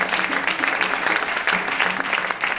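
A worship congregation applauding and cheering for God, a dense, steady wash of many hands clapping at once, close and continuous throughout with no pauses.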